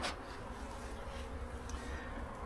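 Honey bees buzz in a steady, dense hum at an open hive frame during an inspection of a dying colony, continuous and close, with no talking.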